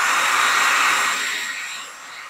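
A hair dryer blowing on acrylic paint on a mason jar luminary, a steady close-up airy whoosh that gradually fades over a couple of seconds, heard alone.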